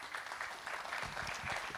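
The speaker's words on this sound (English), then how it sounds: "A round of applause for the great speakers" Conference audience applauding after a panel of speakers at a hydrogen energy event in Egypt, steady dense clapping filling the room without pause.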